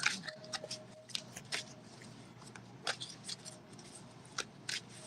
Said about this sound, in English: sound like she's shuffling the deck big time